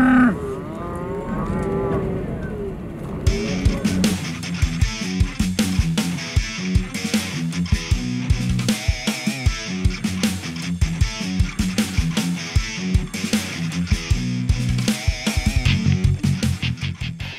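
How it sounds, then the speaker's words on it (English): Cattle at a road crossing in rural Utah, heard from a 4x4 Astro Van: a loud, close low moo opens, followed by a long run of repeated rhythmic clicks and clatter with animal calls mixed in. "sometimes we just gotta wait for cow crossings."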